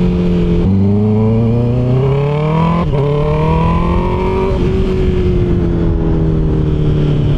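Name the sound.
Honda CB650R motorcycle revving with IXIL full system exhaust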